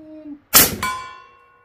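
A Western Rattler .357 air gun fires with a sharp crack, then the pellet strikes a big steel target about fifty yards off, leaving a clear ringing metallic tone that decays over about a second after a brief hum.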